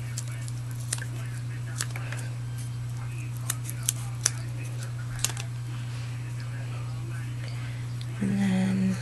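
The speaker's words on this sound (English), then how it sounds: "And let's get some foam tape cut." Scissors snip foam tape for card pop-ups in a few sharp, quiet clicks spread over a steady electrical hum, with a louder buzzy noise near the end.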